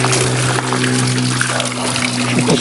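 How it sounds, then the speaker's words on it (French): A waterfall at the Gorges du Coulon gives a steady, full rush of falling water that stays loud and even throughout, with a low steady hum underneath. "Ici, on a la cascade."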